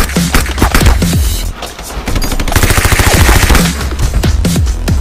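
Gunfire from a weapon in a dinosaur-park video game, loud rapid bursts of shots with booming impacts, close and continuous over game effects.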